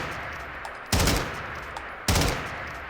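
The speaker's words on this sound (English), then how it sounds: "that's some realistic gunfire" Two short bursts of full-auto fire from a Sig MCX Virtus rifle in a modded Fallout 4 game, each loud and abrupt, spaced about a second apart over a low ambient background.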